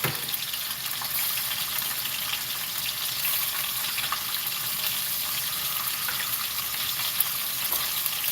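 Sausage frying in olive oil in a pot, a steady close hiss and sizzle of hot fat that runs unbroken throughout with faint stirring clatter.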